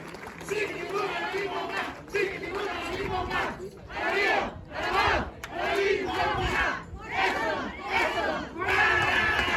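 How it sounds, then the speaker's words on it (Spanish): A crowd at a 5K race award ceremony cheering and shouting in repeated rhythmic bursts for a runner-up, with a voice over a loudspeaker between the swells. "Ahí está la porra para Edson, muy bien."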